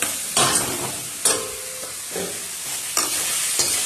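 Fried chicken pakoras stirred into a sizzling chili chicken sauce with tomato and soy sauce, several distinct scraping stir strokes over a soft sizzle, close and clear.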